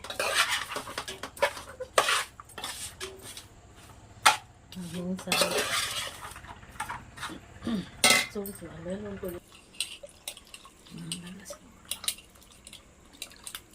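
Fish curry ingredients with ginger and green chillies being stirred and mixed in a pot, giving repeated scraping and clinking spoon-on-pan sounds in uneven bursts, close and fairly loud, with brief faint voice sounds between.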